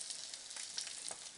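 Chicken pieces frying skin side down in a pot for a Moroccan chicken dish, a steady close hiss and sizzle with small crackling pops throughout, no talking.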